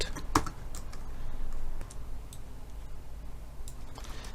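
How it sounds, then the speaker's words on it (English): Keyboard keys clatter in a steady run of light clicks while code is typed for a Java text adventure game, fairly close and alone, with one sharper click near the start. "we're gonna type like this"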